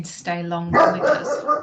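A dog barks and yelps indoors during a council meeting, sounding close and fairly loud, its bursts overlapping with a person who keeps talking through it.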